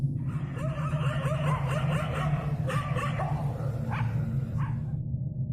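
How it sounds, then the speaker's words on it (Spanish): Dogs bark at a distance at night in the countryside, a run of repeated yips and barks over a steady low hum of night insects, faint and far off rather than close. "algunos ladridos de perros que se escuchaban muy a lo lejos"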